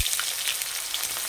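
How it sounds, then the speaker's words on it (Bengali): Onions hit hot oil left from frying potatoes and crackle loudly up close, a dense, even sizzle that lasts only a moment. "এই তেলেই রান্না করে নেব। তেলে দেবো পেঁয়াজ"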